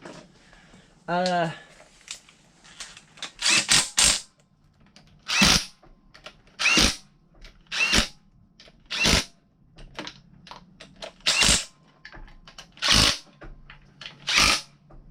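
A power tool tightens bolts on a harmonic balancer of a 5.3 LS engine in an S10 truck: about a dozen short, loud buzzing bursts in an irregular rhythm, with brief talk near the start.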